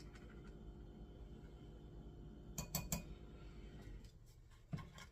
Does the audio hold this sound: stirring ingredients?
yes